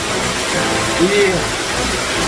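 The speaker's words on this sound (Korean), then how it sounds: "여기가 부른 건 청수 폭포입니다" Cheongsu waterfall in a Bukhansan mountain valley pours in a constant loud hiss, with someone speaking briefly over the steady rush of water.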